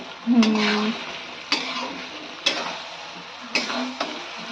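Mutton khurma being stir-fried in a pot, with a low sizzle under four sharp clanks of a spatula against the metal, spaced about a second apart.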